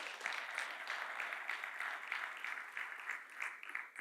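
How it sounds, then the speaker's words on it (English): An audience claps steadily for about four seconds, a fairly even and moderately faint ovation with no voices rising above it. "Please give a round of applause to that lady"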